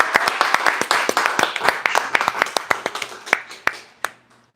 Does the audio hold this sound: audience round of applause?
yes